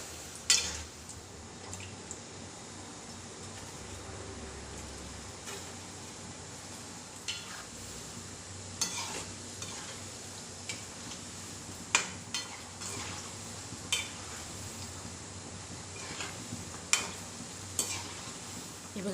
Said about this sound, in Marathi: असे मिडियम गॅसवर तळले ना तर असे छान खरपूस तळले जातात आणि आतपर्यंत तळले जातात